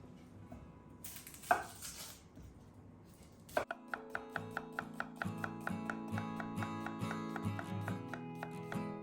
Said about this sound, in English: I'm gonna slice one red onion